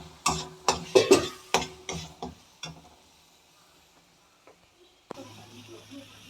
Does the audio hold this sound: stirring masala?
yes